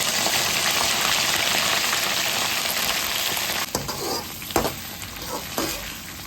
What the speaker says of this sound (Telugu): ఇప్పుడు మనం ఈ బెండకాయ ముక్కలు వేసేసుకోవాలి.